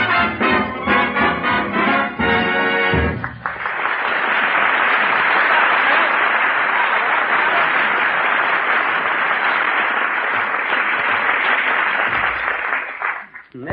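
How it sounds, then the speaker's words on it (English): Broad applause from a studio audience roars on a recorded song's end, following a few seconds of singing with band, a dense clapping wash holding steady for about ten seconds before cutting off. "He even puts applause on the record."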